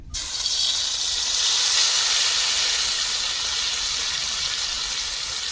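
Fish dropped into hot mustard oil in a karahi, an abrupt loud sizzle that settles into a steady, bright frying hiss, close and continuous.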